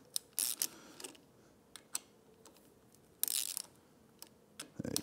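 Bolts on the handlebars of a 2024 Triumph Speed Twin 1200 are tightened with a ratchet, giving scattered short metallic clicks and a couple of bursts of rapid ratcheting, close by and separated by quiet gaps.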